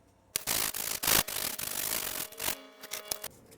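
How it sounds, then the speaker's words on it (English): Rough, broadband scraping strokes of sandpaper rubbing against plywood edges, repeated in uneven bursts, close up with no talking. "Once you have the rough outline cut out, sand the edges down."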